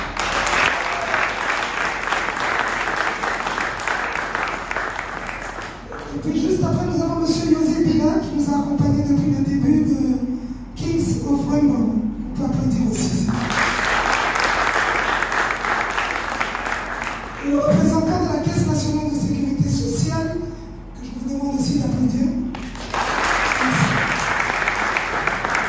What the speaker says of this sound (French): je vous demande vraiment de le féliciter, de l'applaudir